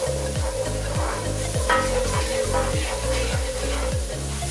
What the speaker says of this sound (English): And 3 tablespoons of garlic. I'm going to saute these off nicely.